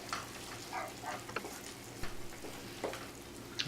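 Onions sautéing in a saucepan for French onion soup: a soft, crackling sizzle with scattered light pops and a few stirring scrapes, fairly quiet with no talking.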